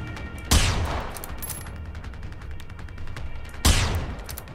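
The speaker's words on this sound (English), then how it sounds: "Shooting at me from that far?" Two bursts of enemy gunfire in the Generation Zero video game, each a sharp crack trailing into a long rumbling decay, spaced about three seconds apart over a steady background drone, with no talking.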